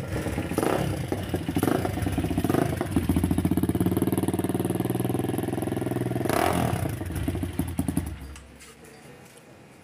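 A Crazer 150cc motorcycle engine revs loudly and steadily up close for about eight seconds, with brief throttle blips, then cuts off near the end.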